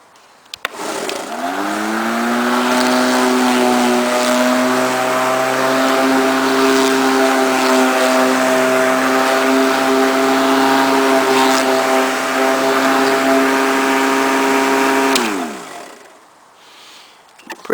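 An electric lawn mower cuts grass, its motor spinning up sharply and then holding a steady, loud whine for about fourteen seconds before spinning down and stopping. There is no talking over it.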